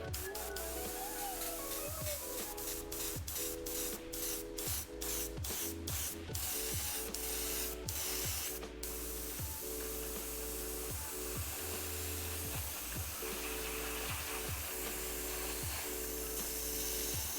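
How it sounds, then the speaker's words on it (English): Air spraying between paint layers on a miniature: a continuous hiss of airflow broken by rapid ratcheting clicks of the airbrush mechanism in the first half, then steady hiss alone. "In between layers, I'm just spraying with air to help make everything dry."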